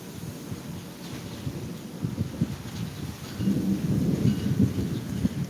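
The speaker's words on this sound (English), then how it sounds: "You guys can hear that thunder." Low, rolling thunder rumbles outdoors at a cemetery in southern Arizona, steady with rain in the background, then swells louder and closer toward the end.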